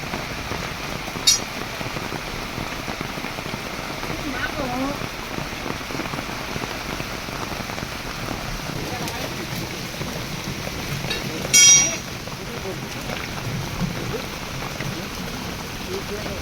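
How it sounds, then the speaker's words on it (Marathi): Heavy rain pours down steadily in a dense hiss of drops on surfaces, with a couple of brief louder knocks. "मित्रांनो बघा खूप पाऊस आहे"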